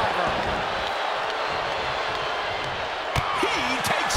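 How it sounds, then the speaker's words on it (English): A steady roar from the wrestling crowd in WWE 2K22 fills the arena without letup, while a commentator's voice talks over it and a few sharp impacts land near the end. "The sound of this crowd is deafening, and he's asking for more."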